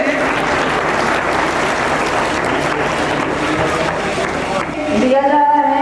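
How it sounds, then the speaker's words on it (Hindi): Sustained, dense audience applause at a school Foundation Day and Grandparents Day celebration, loud and steady for about five seconds before it cuts off and a voice starts over the fading claps. "थोड़ा तालियां हो जाए सर के लिए"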